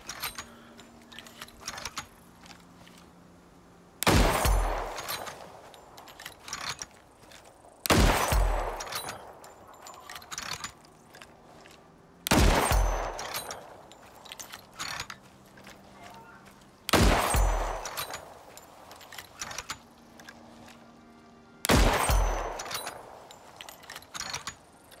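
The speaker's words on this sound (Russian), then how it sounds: "Плохой был выстрел." Gunfire in the video game ICARUS during target practice: five loud, sharp shots spaced roughly four seconds apart, each with a short mechanical rattle trailing off, against a quiet background.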